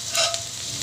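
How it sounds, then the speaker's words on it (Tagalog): Garlic sautéing in a little oil in a pan for Batangas-style lomi, a brief steady sizzle with a light stir or scrape, close and alone. "magigisa na ako ng para na sa lomi. Ito ng bawang"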